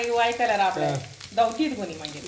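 A tempering of crushed garlic sizzles in a frying pan while being stirred, a loud, close crackle with shifting bursts as the spoon moves through the hot oil.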